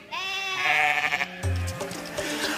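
A sheep bleats in a long, wavering, nasal cry, loud and close, followed by a short low grunt and a fainter second call, with no one speaking over it.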